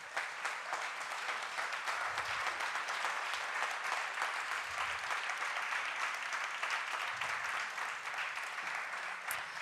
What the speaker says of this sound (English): please keep the round of applause going for Dr. Blue